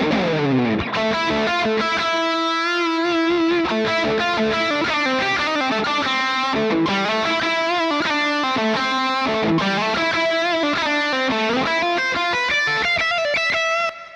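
Electric guitar through an Axe-FX processor with distortion and chorus, playing a continuous melodic riff, full and loud with sustained ringing notes.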